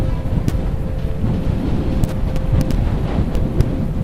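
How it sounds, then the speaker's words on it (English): Strong wind buffets the microphone during a mountain descent at Glenlivet, making a loud, continuous rumbling roar with faint scattered ticks and no speech. "See how the wind deflects away from this one."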